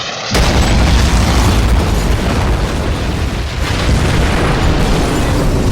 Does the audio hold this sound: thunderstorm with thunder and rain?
no